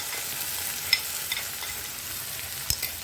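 Steady sizzling of tomato puree frying in a pan, with a few soft clinks of a utensil stirring, no talking.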